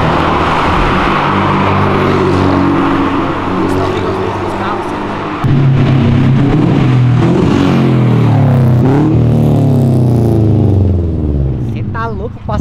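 Nissan Silvia S15 engine roars and revs hard on a city avenue, loud and close, with pitch rising and falling through several pulls while people talk over it.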